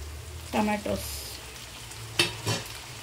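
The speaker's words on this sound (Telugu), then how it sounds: "ఇప్పుడు ఇవైతే వేగుతున్నాయి కదా, దీంట్లో టమాటాలు వేసేసుకున్నాం" Chopped tomatoes tumble into a frying pan of sizzling brinjal for a tamarind stew, giving two short clattering bursts over a steady low sizzle, with a brief voice heard.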